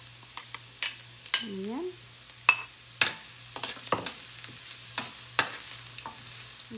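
Garlic sautéing in oil in a pan after the onions, for crab in crab paste sauce. Soft sizzling is broken by repeated sharp clacks of a spatula against the pan, and a voice briefly says a word.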